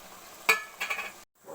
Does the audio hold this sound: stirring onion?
yes